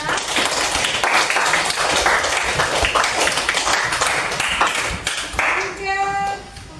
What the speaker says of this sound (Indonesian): Ya, tepuk tangan kepada kelompok 5.